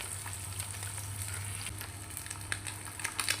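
Tiny fish fry in oil for a miniature village fish curry, producing a soft, steady sizzle with scattered crackles and pops that grow busier toward the end, set over a low hum, with no speech.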